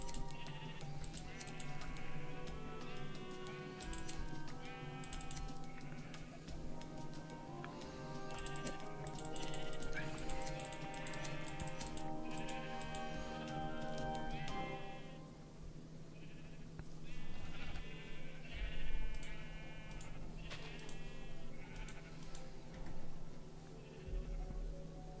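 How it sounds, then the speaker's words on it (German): A flock of sheep in the video game Minecraft bleats over and over, overlapping cries repeating through a long stretch above a steady background hum, with small ticking sounds scattered throughout. "Ich glaube, ich habe ein paar zu viele Schafe hier rumstehen"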